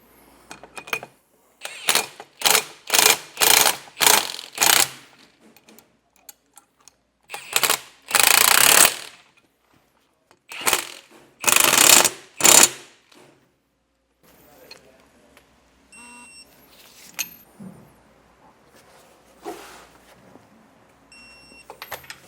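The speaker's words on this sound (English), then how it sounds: "I'm going to snug these down with my impact just a bit" An impact wrench with a 3/4 inch socket snugs the bolts on a boat trailer's axle-less suspension, firing in several short loud rattling bursts separated by pauses, then quieter handling noises.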